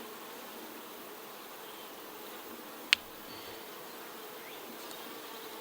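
Honey bees leaving the hive give a faint, even buzz throughout, broken by one sharp click near the middle.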